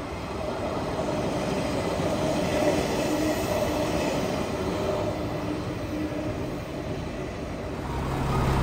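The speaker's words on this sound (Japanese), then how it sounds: "一番乗り場に再度315系、現在停車をしています。 出発しそうなので見ることができなくなってしまいそうです。" A JR Series 315 electric train idles and moves at a station platform, producing a steady close rumble with a faint high whine, continuous throughout.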